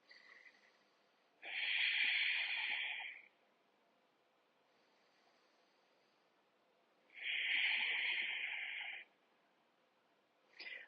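Two long, deep breaths taken during a beginner core-strengthening yoga class, each a loud, airy rush lasting about two seconds, separated by several seconds of near silence, with the start of a third breath at the end.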